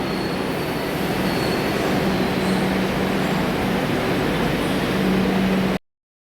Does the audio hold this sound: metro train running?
yes